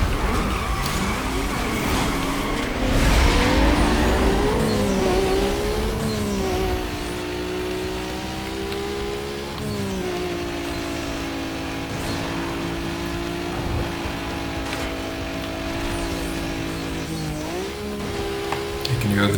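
Turbocharged race cars in the Need for Speed Most Wanted video game scream through revving and shifting engine notes with rising and falling pitch, tires squealing at moments, loud and continuous, with a person talking over the game.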